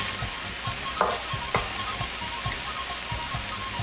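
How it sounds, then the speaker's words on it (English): Chopped garlic and onion sizzling in a hot pan for chicken lettuce wraps, a steady frying hiss with regular scraping stirs of a utensil, fairly close and quiet, no voices. "let's go ahead and toss in our garlic and onion"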